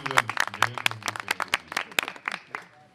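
A live audience claps at a Punjabi poetry recital: scattered, uneven hand claps close by, mixed with a few voices.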